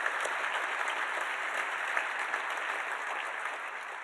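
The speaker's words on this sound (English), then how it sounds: "We applaud you." Sustained applause from an audience at a university evening event, a steady dense clatter of many hands clapping throughout, with no break.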